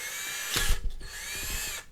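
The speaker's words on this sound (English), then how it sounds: "we're just gonna drill these holes out exactly with the guide" A drill bores holes through a plastic Warhammer Necromunda miniature sprue, guided by a drilling jig. Close, gritty whirring bursts and grinding run for over a second over a steady background hum, then stop.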